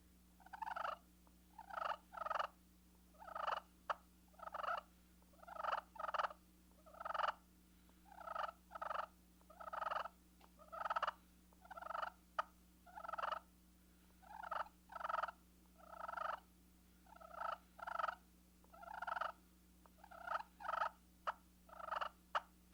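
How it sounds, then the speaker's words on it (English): A limb talker slate turkey call produces rhythmic clusters of clucks and rolling purrs, repeated in short bursts with brief pauses, close and clear over a low steady hum. "This limb talker slate produces the best clucks and purrs of any call I've used."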